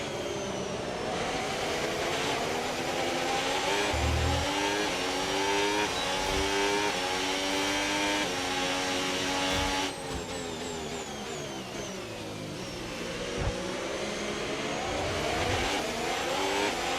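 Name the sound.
F1 race car engine accelerating, F1 25 video game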